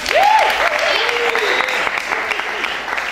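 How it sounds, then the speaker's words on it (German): A theatre audience applauds at a Grease musical event, loud dense clapping throughout, with a voice rising and falling above it near the start. "Und wenn das schon alles an Applaus war"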